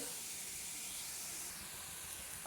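Steady hissing sizzle of cumin and fennel seeds frying in hot oil, close and continuous with no pauses.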